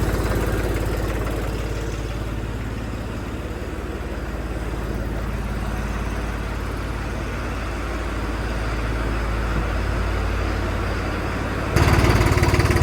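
A tractor engine idles with a steady, low, close rumble while warming up, with a slight rise near the end; no voices.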